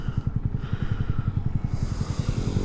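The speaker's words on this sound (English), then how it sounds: "This bike sounds 100 times angrier than it has any right to sound." A motorcycle engine idling with a rapid, lumpy low-pitched thump, steady and close, its tone easing slightly toward the end.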